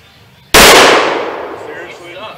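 A single sharp, loud firearm shot at a broken computer, struck indoors, with a sudden blast followed by a long decaying ring and rattle.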